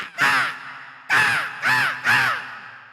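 A human voice mimics a common Indian house crow, giving one harsh caw, a pause, then three quick caws in a row, clear and close with no other sounds.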